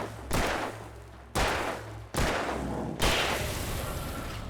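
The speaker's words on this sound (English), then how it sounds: "I will shoot this man" Four loud gunshots from the Alan Wake video game, spaced roughly a second apart, each a sharp crack trailing into a long rumbling decay, with no talking.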